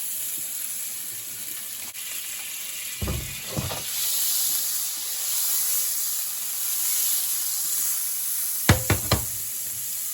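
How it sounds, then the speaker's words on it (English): About a tablespoon of butter melts in a pot as the base for a seafood boil sauce, giving a steady, soft sizzling hiss throughout, broken by a few sharp knocks of a utensil against the pot. "I'm going to add about a tablespoon of butter to this."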